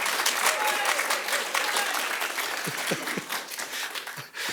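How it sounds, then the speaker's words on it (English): An audience at a campus awards night claps steadily for several seconds, a dense even patter with voices talking over it near the end. "yes, we should clap for that."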